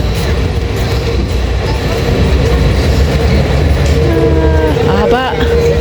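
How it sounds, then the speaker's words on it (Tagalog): A long train rolling past a busy spot near a mall, its steady rumbling roar close and loud throughout, with a high squealing tone rising near the end and people speaking faintly nearby. "Ito na yung isang train."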